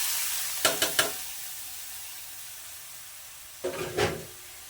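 Mutton being added to a pan of browned onions, giving two short bursts of stirring and scraping over a faint steady sizzle, with no talking.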